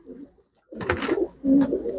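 Domestic pigeons cooing as they are handled and released one by one, a few deep throaty coos in short bursts close up, with faint voices nearby.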